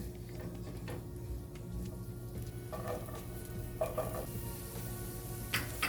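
Garlic and onion sautéing in a hot pot, a quiet low sizzle with occasional stirring scrapes and faint utensil knocks, fairly soft.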